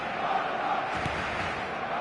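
Stadium crowd in a PS4 football video game, a broad, steady roar of cheering that holds at an even level for the whole moment, with a slight swell partway through.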